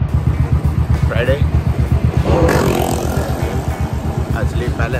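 A motorcycle engine runs close by, a loud, steady pulsing rumble that throbs evenly through the whole stretch, with a short rise in intensity midway.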